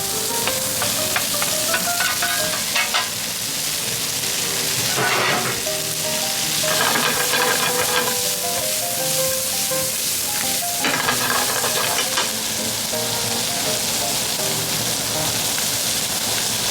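Shrimp and squid fry loudly in a pan, a dense crackling sizzle throughout with repeated stirring scrapes and clatters, close and continuous, no talking.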